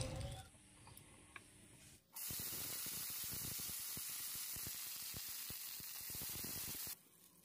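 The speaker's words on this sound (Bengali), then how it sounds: "বন্ধুরা, জিরে আর লঙ্কা ভেজে নিয়েছি" Cumin seeds and green chillies fry in oil in a kadai during home cooking. A loud, steady sizzle with dense crackling starts abruptly after a quieter opening, holds for about five seconds, then cuts off.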